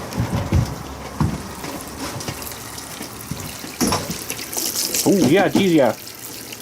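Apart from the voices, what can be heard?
hot water running from tankless water heater tap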